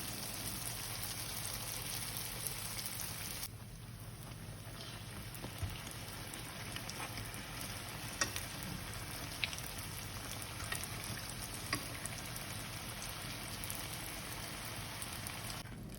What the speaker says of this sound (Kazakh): Қалған пирожкилерді қызып тұрған майда 2 жақ бетіне ауыстырып, қызарғанша қуырып аламыз.